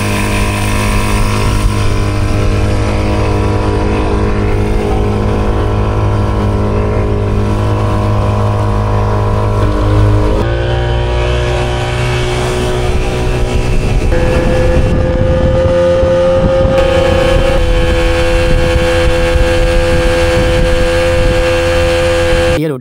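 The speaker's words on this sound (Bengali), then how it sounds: "আমাদের ড্রাইভার স্পিডবোটে স্টার্ট করছেন" A speedboat engine starts and runs on a sea crossing between Moheshkhali and Cox's Bazar, a loud, steady motor drone heard close by that shifts pitch partway through as the throttle changes.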